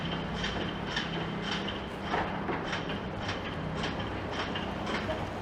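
Toronto streetcar approaching on its tracks, a steady rolling rumble with regular rhythmic clacks of wheels over rail joints, fairly close and continuous throughout.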